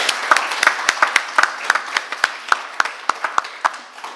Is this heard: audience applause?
yes